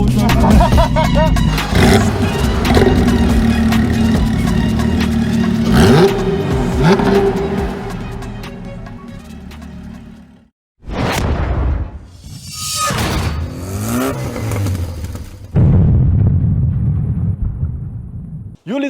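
A Porsche GT3 engine roars at high revs on the Bresse race circuit, loud and close with sustained wide-open throttle, then a brief drop and further sharp revving bursts.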